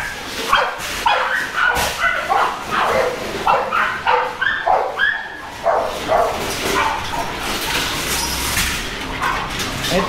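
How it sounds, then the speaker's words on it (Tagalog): Several dogs bark and yip in overlapping bursts, some close and loud, with whimpering mixed in and no talk. "Nagdami niyang aso dito."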